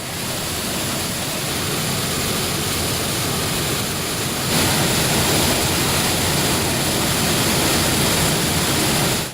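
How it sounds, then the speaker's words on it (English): A stream rushes loud and continuous through an underground cave at St Cuthberts, pouring down a waterfall in a dense roaring wash that swells slightly about halfway through and holds steady with no voices. "The stream then rushes down Wire Rift."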